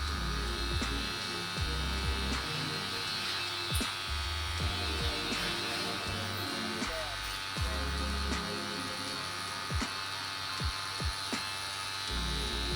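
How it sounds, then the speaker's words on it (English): Steady electric buzz of a tattoo machine fitted with a 9-round shader needle, working on real skin in small circular motions, running continuously and close with faint pulses and clicks throughout. "I outline the line and then fill in the area with the 9-round shader needle using small circular motions"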